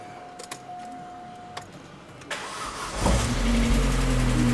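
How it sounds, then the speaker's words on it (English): A few faint clicks and rattles, then a Vauxhall VXR engine fitted with a new turbo and manifold cranks and catches, settling into a loud steady idle. "let's get the car started"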